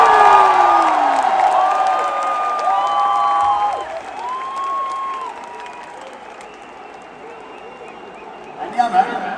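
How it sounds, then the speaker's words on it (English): Big stadium crowd at Mumbai's Wankhede Stadium applauding and cheering for a cricket bowler during a championship celebration, a loud sustained roar with whoops, under an amplified announcer's voice, fading slightly toward the end. "A huge round of applause to Jasprit Bumrah, please."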